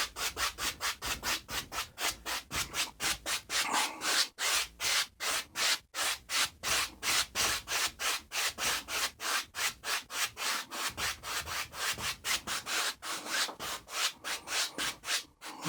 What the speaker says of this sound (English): Just using crisscross strokes with our 2-inch brush.